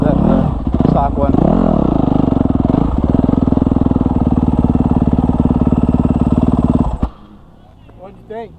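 A modded 2024 Yamaha YZ250F dirt bike with aftermarket air box, air boot, power flow kit and ECU revs loudly and close, rising and falling in sharp throttle blips for about seven seconds before cutting to a low idle.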